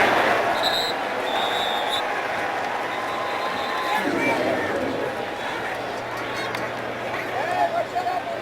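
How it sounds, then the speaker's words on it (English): Vikings fans chanting Skol in a stadium crowd at a 2016 Vikings at Jaguars football game, a steady dense roar of massed voices heard at a distance beneath close commentary. "You can hear the Viking fans in the crowd with the Skol chants."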